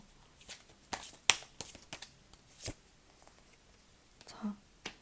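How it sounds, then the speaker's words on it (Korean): Tarot cards riffle and slide in quick papery shuffling bursts and soft taps as cards are drawn, close and fairly quiet, with a faint breathy voice murmuring softly at moments. "여러분만을 위한 조언의 카드 뽑아보도록 할게요"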